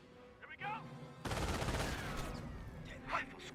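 Machine gun fire in the real-time strategy game Company of Heroes, a sustained burst of automatic shots starting abruptly after a brief quieter passage and continuing at moderate loudness, with a faint voice earlier.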